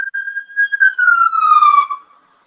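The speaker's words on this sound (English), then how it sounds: "That's probably Ohio with the sirens" A single siren sweeps downward in a clear, loud wail, heard once and close by, with no voices over it, before fading out.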